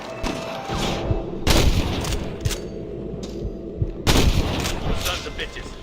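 Gunfire in Red Dead Redemption on PC, sharp loud shots and booming blasts at irregular intervals, two especially heavy ones standing out, with voices speaking between and over the shooting.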